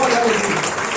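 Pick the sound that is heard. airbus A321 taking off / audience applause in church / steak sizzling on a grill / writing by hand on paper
audience applause in church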